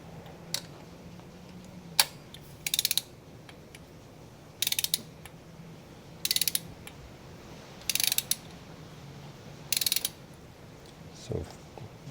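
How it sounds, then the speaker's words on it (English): Torque wrench tightening spark plugs on a K series engine, set to about 17 foot-pounds: sparse mechanical ratcheting clicks in short bursts, several repeated pulls spaced a couple of seconds apart, close and fairly quiet over a faint background hum. "and then I'm going to use a torque wrench"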